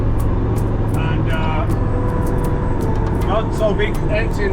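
Inside a car on its first drive after a two-year technical overhaul, cruising at about 80, a steady low engine drone and road roar from the empty cargo space, with faint rattles and clicks over the constant hum.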